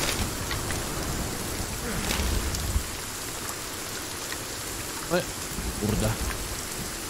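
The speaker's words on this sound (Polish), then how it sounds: "Kurwa, jaka deszcz się zebrał." Heavy rain falls in the video game Sons of the Forest, a dense, loud, continuous hiss of drops with faint rumbles, and a man mutters briefly over it.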